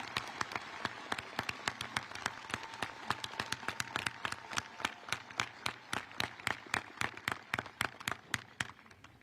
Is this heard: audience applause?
yes